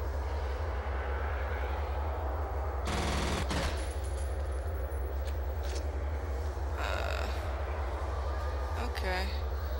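Gunfire in the shooter game F.E.A.R., a short sharp burst of rapid automatic shots over a constant low hum, with a few fainter clanks and effects following and a voice talking at times.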